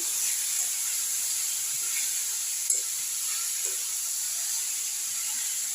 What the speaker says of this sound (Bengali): ভালো করে কষে নেবো এবার